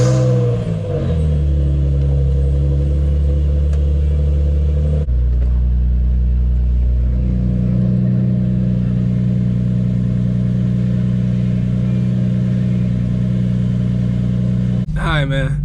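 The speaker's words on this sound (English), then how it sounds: "turn the car on, and let's see if I have to bleed the clutch or not" A car engine idles and runs after a Stage 5 clutch and chromoly lightweight flywheel install, giving a loud, steady low drone with a shift in tone partway through and a brief noise burst near the end.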